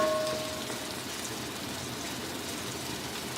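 Vegetables, leafy greens and potatoes fry in a pan for Chinese-style egg fried rice, giving a steady, even sizzling hiss that holds without a break and carries no voices.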